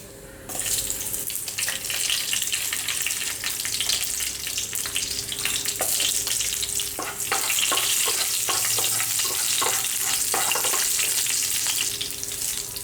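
Okra and dried chillies fry in a pan for a Kerala-style sambar seasoning, giving a steady loud sizzle with scattered crackles and spoon or utensil clicks, and no talking.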